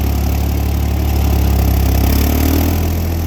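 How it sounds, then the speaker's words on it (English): A Ford New Holland tractor, not started in over a year, runs with a steady, loud low rumble and chugging engine drone throughout, close by, with no voices. "So this tractor had not been started in probably over a year."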